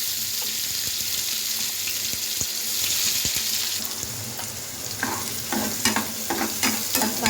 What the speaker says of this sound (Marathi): आता आपण कांदा टाकून देऊया.